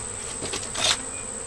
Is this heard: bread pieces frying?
no